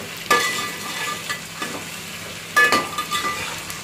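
Tomatoes sautéing in a hot pan, with a steady sizzle and occasional scraping stirs of a spatula, two louder strokes standing out near the start and later, close and without talk.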